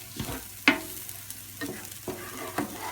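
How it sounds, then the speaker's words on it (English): Spam browns in a frying pan with eggs, a soft sizzle broken by several close scraping stirs and clinks of a utensil against the pan, no talking. "So I'm just making sure the spam's all nicely brown and crispy."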